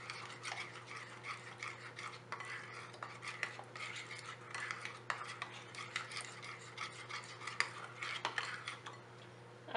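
Egg whites beaten by hand into pakora batter, a steady clinking and scraping of whisk or spoon against a bowl, quiet and continuous with a low steady hum underneath and no talking.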